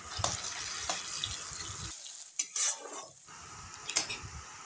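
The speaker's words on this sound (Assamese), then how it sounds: "এতিয়া মই ইয়াত কাটি থোৱা বিলাহীখিনি দি দিম।" Chopped tomatoes dropped into hot oil with bay leaves and green chillies for an Assamese mustard-tomato fish curry, giving a steady sizzle and frying hiss with a few stirring scrapes and utensil clinks on the pan.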